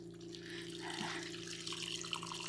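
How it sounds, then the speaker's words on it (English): Water trickles and drips from freshly rinsed apples sitting in a large scoop strainer, a soft steady patter close by with a faint background hum and no talking. "There's all of our apples strained. I'm going to let those sit there and drain just a minute"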